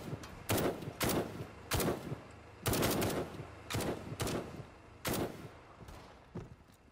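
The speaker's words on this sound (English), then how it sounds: "I don't know what they could be shooting at" Bursts of gunfire in the tactical shooter Firewall: Zero Hour, six or seven sharp volleys spaced about a second apart, loud and close with brief gaps between them and no talking.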